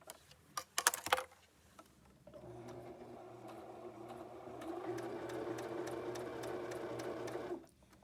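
A sewing machine stitches in a steady run, a close rapid mechanical chatter with needle ticks that starts after a few scattered clicks, speeds up midway and stops cleanly near the end.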